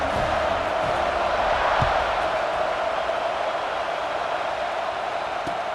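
Football stadium crowd cheering at a kickoff, a dense sustained roar of many voices filling the whole stretch at steady loudness.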